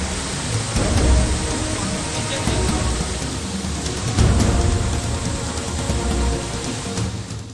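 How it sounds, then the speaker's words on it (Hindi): Heavy rain pours steadily across flooded Bengal countryside, a dense, continuous roar of water with occasional swells in intensity and a low rumbling undertone, no voices present. "बंगाल में बारिश से हाल बेहाल है।"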